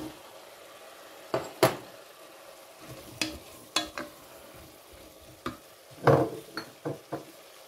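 Potatoes tipped into a pot of sautéing carrots and onion for broccoli soup, several clattering knocks and stirring scrapes over a steady sizzle.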